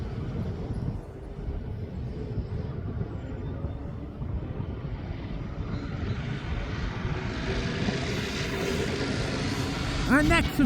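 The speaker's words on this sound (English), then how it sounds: "Our next arrival will be is the Jet2 Holidays from Lanzarote. Flight number is LS630." A Jet2 Holidays airliner, a Boeing arriving from Lanzarote at East Midlands Airport, gives a loud, steady engine roar that builds toward the end. A voice talks over it.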